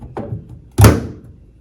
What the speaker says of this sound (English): we can carefully close this door.